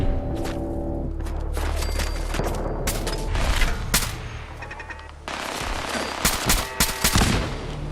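Gunfire in Fallout 4: rapid bursts of automatic weapon fire and sharp single shots, loud and close, with booming impacts scattered throughout.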